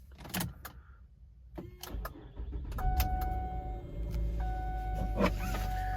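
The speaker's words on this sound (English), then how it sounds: "let's go ahead and start the vehicle" A 2008 Mercury Milan starting up, with a few clicks and a brief whirring crank, then the engine catching into a steady close idle, and a chime tone sounding over it.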